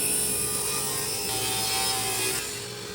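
Pecan wood being ripped into square rods for wooden golf club shafts, a loud, steady, continuous sawing roar that carries on almost unbroken and fades slightly near the end.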